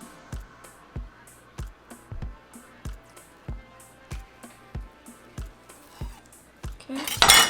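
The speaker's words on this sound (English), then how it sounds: "So we're just going to slice it." Knife slicing Mexican mosaic gelatin on a plate, with a steady series of sharp clinks and taps of the blade against the dish, close and clear, ending in a louder scrape.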